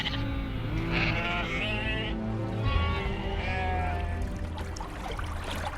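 Sheep and goats bleat in a herd kept by early cave- and hut-dwelling farmers, with several overlapping calls near and loud over a steady background.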